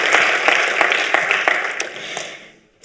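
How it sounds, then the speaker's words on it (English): An audience at the 2023 Action With Africa Challenge final applauds a competing team. The dense clapping has a few sharper individual claps on top, fades after about two and a half seconds, and a voice starts at the end. "Big round of applause for ColdBikes."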